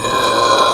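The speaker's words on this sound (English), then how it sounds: "This is the burping challenge, boys versus girls." A long, loud, continuous burp forced out during a boys-versus-girls burping contest, rasping steadily for under a second with no talk over it.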